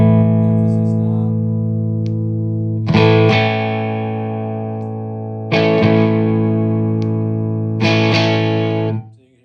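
Three bright electric guitar chords struck several seconds apart through a Colby Mod Machine 100W amp with its emphasis knob switched on, each ringing out with a crisp, trebly edge and slowly fading, with no talking.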